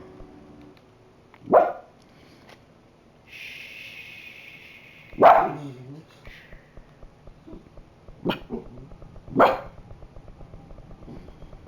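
A dog barks in the video game Control: several sharp, loud barks spaced a few seconds apart, with a brief higher whine between them, over a quiet background.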